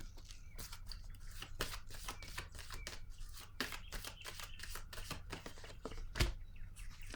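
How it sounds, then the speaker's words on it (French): A card is drawn from a deck, with a run of quick, crisp close-up flicks and shuffling snaps in a quiet room, one louder snap near the end. "Je vais piger une autre carte"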